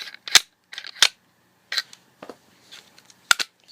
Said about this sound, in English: And my bolt goes right back in,